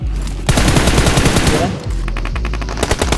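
Rapid automatic gunfire from a BGMI mobile match rattles loud and close, with dense bursts, a short pause, then more shots.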